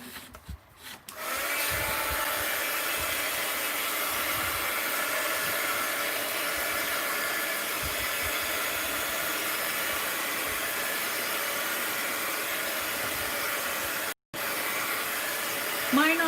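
A hair dryer blows steadily to dry a mixed media art journal page, switching on after a brief moment and holding a constant close whooshing roar with one short dropout.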